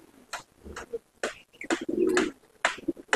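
Punjabi Malwai pigeons in a loft give close, throaty coos in short separate bursts, one longer rolling call near the middle, with quiet gaps between.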